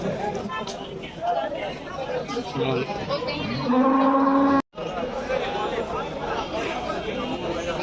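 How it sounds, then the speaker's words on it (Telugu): Nearby water buffaloes give a deep, drawn-out moo amid a busy crowd chattering and talking all around at the Husnabad livestock market. "ఇవన్నీ గేదెలు"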